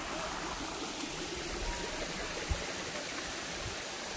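Waterfall at Atimonan, Quezon, in the Philippines, a steady broadband rush of falling water close by, continuous and even, with no talk.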